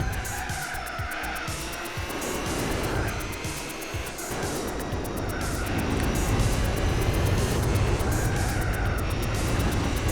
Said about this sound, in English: Man, that thing sounds good. I can't wait to drive that car. F1 engine sound.